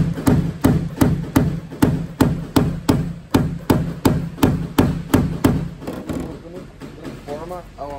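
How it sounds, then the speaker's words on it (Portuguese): Metal hammer tapping directly on a dented car body panel during paintless dent repair, a steady series of sharp, evenly spaced close knocks for about six seconds, then softer scraping and handling with a voice in the background. "Agora eu vou usar o martelo diretamente na lata."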